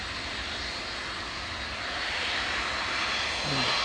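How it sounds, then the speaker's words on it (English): A Boeing 757 departing Manchester Airport gives off a broad, steady engine roar that swells slightly louder toward the end, heard from a distance and alone. "wave off the 757."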